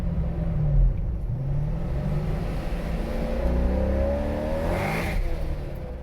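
A supercharged C5 Corvette engine runs loud and close with a deep rumble, revving up and settling in waves with a sustained throaty drone.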